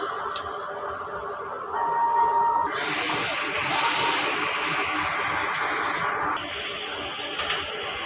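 DTF printer running a nozzle check, a steady close mechanical hum and hiss with a shift into a brighter, louder whir midway, carrying on evenly without speech.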